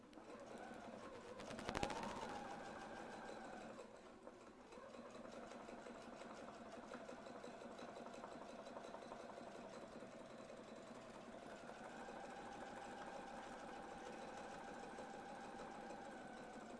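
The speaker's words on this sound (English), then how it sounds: "Turning, we're going to sew up the top." A domestic sewing machine stitches along a quilting template with a steady, close, mechanical whir and a rapid needle rhythm, a sharp click near the start and a brief change in pitch partway through.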